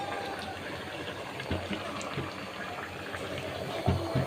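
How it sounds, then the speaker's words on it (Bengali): Oil is poured into a pan on a stove for cooking vegetables, a steady bubbling hiss with scattered light clicks and taps. "এই আমি তেল দিচ্ছি চুলোতে সবজি ইয়া করার জন্য"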